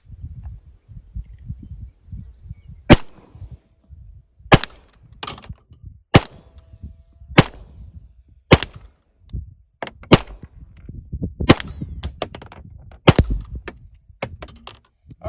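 A TISAS Night Stalker 1911 .45 ACP pistol fires about nine sharp, loud shots at a steel dueling tree from over 15 yards, each crack followed by a bright metallic ring, spaced irregularly over low outdoor rustle.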